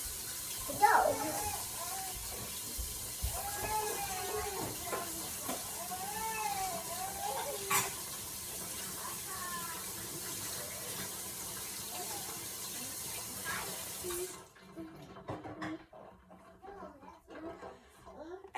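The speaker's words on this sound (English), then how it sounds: "And then I just rinse this off with water." A jar being rinsed under a running tap, with water splashing and streaming steadily for most of the stretch before cutting off abruptly, while a person talks over it.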